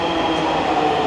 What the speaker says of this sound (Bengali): আরেকটা ট্রেন আসছে।